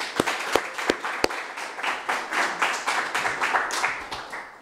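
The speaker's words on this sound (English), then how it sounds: "And just a quick round of applause for Lisa" Audience applause at a city council campaign announcement event, opening with a few sharp, separate claps that swell into a brisk round of clapping from a modest crowd nearby.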